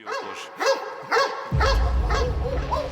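Prison guard dogs barking at a Croatian prison, a rapid series of loud, close barks and yips, about six in three seconds, with a low rumble rising beneath them midway.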